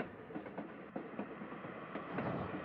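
Train sounds from the Little Witch in the Woods video game, a soft steady rumble with light repeated rhythmic clicks, moderately quiet and continuous with no one talking.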